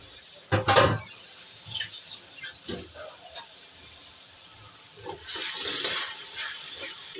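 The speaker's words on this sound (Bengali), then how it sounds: "রসুনটা একটু লাল লাল হওয়া অবধি ভাজবো।" Minced garlic and ginger frying for homestyle chilli chicken, with a loud stirring scrape near the start, then soft, intermittent sizzling and light clinks of the spatula against the pan.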